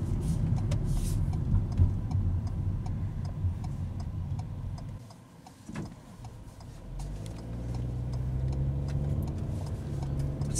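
A Ford EcoSport SE engine pulls in second gear, a steady low drone heard from inside the cabin with light ticking, dipping briefly at a shift before climbing again.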